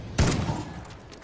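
A sharp burst of gunfire in Call of Duty: Ghosts, a loud crack followed by a short rattle of shots that quickly fades.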